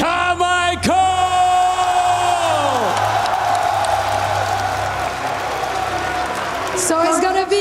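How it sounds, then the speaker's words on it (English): A large arena crowd at a League of Legends esports tournament roars and cheers continuously, a dense sustained swell of voices under loud, excited shouting from a caster. "Listen to the crowd in here."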